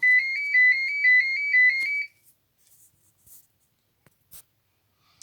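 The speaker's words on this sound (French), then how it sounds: "j'ai eu un coup de téléphone, donc j'étais obligée de mettre sur pause" A phone ringtone sounds as an incoming call arrives, a loud, steady electronic tone pulsing in a regular rhythm for about two seconds, then cutting off and leaving quiet with a few faint clicks and rustles.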